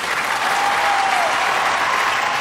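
Audience applause for a teaching assistant named Todd at a university class, a dense steady wash of many hands clapping that holds at an even loudness throughout.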